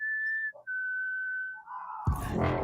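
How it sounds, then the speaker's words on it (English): A death whistle is blown: a steady, piercing whistle tone holds with a brief break, then a harsh, rushing shriek bursts in loud near the end. "He decided to try using the death whistle"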